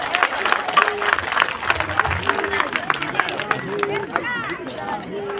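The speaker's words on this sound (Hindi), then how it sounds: "जोर से ताली बजाओ" A seated audience at a Hindu religious katha gathering claps loudly and rapidly, a dense, sustained wash of hands with crowd murmur and scattered voices underneath.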